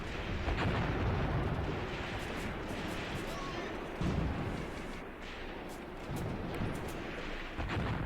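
Heavy incoming fire in the Graviteam Tactics war game: a dense, continuous rumble of distant explosions and gunfire with occasional louder bursts, steady throughout with a voice faintly underneath.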